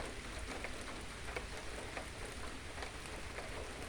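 Rain falling steadily on a Thai farm during the rubber-tapping season, a dense, even patter of drops on surfaces with a constant moderate hiss and no voices.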